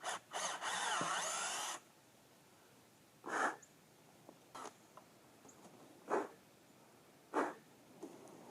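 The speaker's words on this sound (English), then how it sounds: "So we're going to drill at a slightly uphill angle" A power drill boring a tap hole into a maple tree trunk: one longer close whining burst, then several short separate drilling bursts spaced a second or so apart, with quiet outdoor pauses between.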